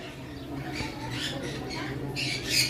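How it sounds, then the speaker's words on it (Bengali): An albino pied cockatiel from a pair squawks in a few harsh, scratchy bursts, with the loudest cry at the end over a low background hum. "এইখানে এক পেয়ার ককাটেল রয়েছে"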